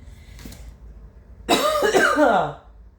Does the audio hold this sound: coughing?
yes